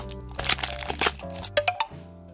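Crinkly plastic wrap being torn off a Tomica Ferrari Roma die-cast toy car box, a run of close, loud rustling and crackling bursts with a few sharper rips near the end.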